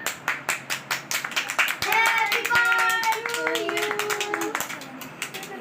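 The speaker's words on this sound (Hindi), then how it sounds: "ताली तो बजा लो भाई।" A short burst of steady, rhythmic hand clapping from a few people, then voices talking over a background murmur.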